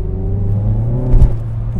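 A car's engine pulls hard at full throttle out of a corner, a close, steady low drone with a brief surge of rumble midway.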